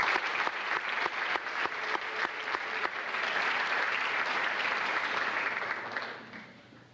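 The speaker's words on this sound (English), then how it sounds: "there's a round of applause, please" A crowd at a basketball banquet gives the coaches a round of applause, sharp individual claps standing out over a thick, even wash before it fades away near the end.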